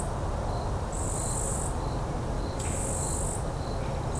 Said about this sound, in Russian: Это кузнечик.